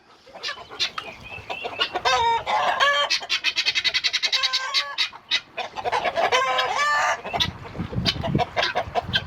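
Brahma chickens and guinea fowl in a farmyard, a busy chorus of clucking, squawks and repeated harsh calls close by, overlapping almost continuously with a brief lull in the middle.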